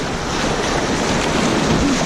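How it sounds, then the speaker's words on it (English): River rapids churn around a boat at Bulldog Rapid, a dense, loud, continuous rush of broken water mixed with wind buffeting on the microphone. "Pretty good waves."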